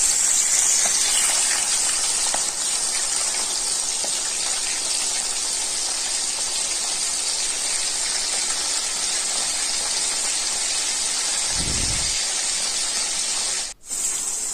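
Six salted, turmeric-rubbed pomfret fish sizzle in hot oil in a wok, a steady close hiss and crackle of frying that runs unbroken for the whole stretch with no one talking.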